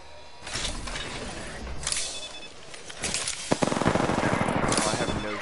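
Automatic weapon fire in Apex Legends, rapid bursts crackling through a busy battle mix, the densest run of shots coming near the end, with a player talking over the action.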